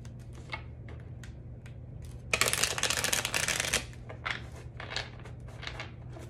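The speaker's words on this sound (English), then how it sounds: "Okay, two more shuffles." A quick riffle of cards being shuffled, a rapid flutter lasting about a second and a half, with soft handling taps before and after.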